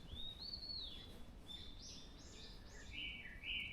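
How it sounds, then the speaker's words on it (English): Clear, bright chirps and whistled phrases from songbirds carry through a cool May morning forest on Bongseosan mountain, several calls rising and falling over a low ambient hum. "I'm recording birds in the forest"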